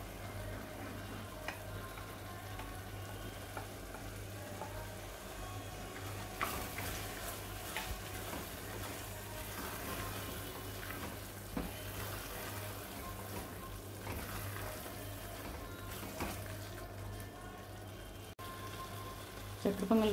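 Fried raisins and cashews are stirred into thickened sugar syrup for sweet chakkara pongal, with a quiet, steady bubbling simmer broken by intermittent scrapes and clinks of the spoon.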